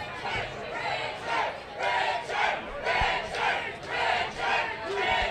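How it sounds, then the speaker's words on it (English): A fight-night crowd chants in a rhythmic, swelling pattern, roughly six loud surges in about five seconds, each rising and falling in unison with no other voices. "Loving the crowd."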